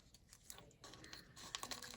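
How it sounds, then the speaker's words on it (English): Dissecting scissors snip and tear through a plastic specimen bag holding a pig heart in a lab, quiet crinkling and crunching bursts coming in short irregular bursts close up. "by cutting open the bag with the dissecting scissors"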